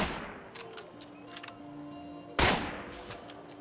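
A gunshot in the State of Decay video game fires once, sharp and loud, after a stretch of quieter game ambience with faint clicks and a steady hum, then fades into a short tail.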